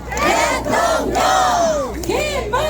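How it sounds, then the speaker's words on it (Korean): A crowd at an outdoor political rally at Paju's Unjeong station cheers and shouts loudly, many voices rising and falling in waves over continuous crowd noise. "박수"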